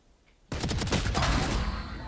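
Pistols fire in a Valorant match, a sudden loud burst of rapid gunshots kicking in after a quiet moment and rattling on to the end.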